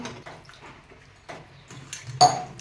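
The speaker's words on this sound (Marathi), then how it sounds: "असं चोळून चोळून कारलं तीन वेळा तरी धुवून घ्यायचं आहे" Salted bitter gourd is rubbed and washed in water in a vessel, with close splashing, sloshing and light clinks of a pot, ending in a louder splash.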